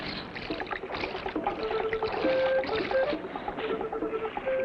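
Turtle shells used as paddles for a boat in a cartoon: soft splashing and dipping of the shells in water, a continuous gentle patter with faint tonal whistles, heard alone.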